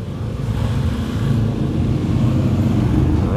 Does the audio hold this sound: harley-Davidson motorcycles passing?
yes